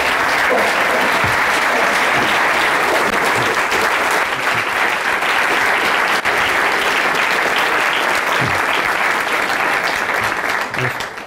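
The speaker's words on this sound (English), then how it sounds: "let's give a big applause to Ole Mouritsen" An audience at a science talk breaks into sustained, dense applause, loud and continuous for about eleven seconds before beginning to fade at the very end.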